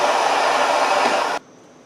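A heat gun aimed at a wheel hub bearing on a 2000-2006 Chevy/GMC Suburban or Tahoe roars with a loud, steady blowing hiss close by, then cuts off abruptly to a faint hum.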